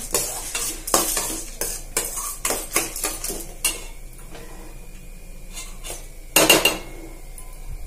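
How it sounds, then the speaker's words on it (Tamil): Spices frying on a low flame for curry leaf powder, with repeated loud scraping strokes of a spoon against the pan over a soft sizzle, ending in a sharp clatter of metal. "சிம்மில் வச்சே ஃப்ரை பண்ணுங்கள்."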